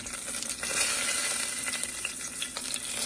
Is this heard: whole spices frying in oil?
yes